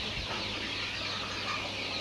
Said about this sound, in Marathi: तुम्ही बघू शकतात, या ठिकाणी गावरान पक्षी आहेत